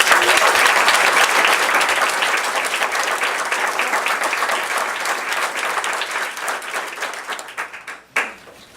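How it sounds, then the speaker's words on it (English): An audience at a board of education meeting claps loudly and steadily, a dense burst of applause that gradually thins and fades into a few final scattered claps. "So let's give him a big clap."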